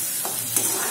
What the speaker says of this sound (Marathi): आता ही पेस्ट छान आपण परतून घेऊ